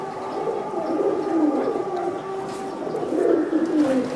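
Pigeons at a seller's stall coo continuously in soft, rolling calls, several birds close by with no talk over them; the birds include Giribaz tumbler pigeons from Rajshahi.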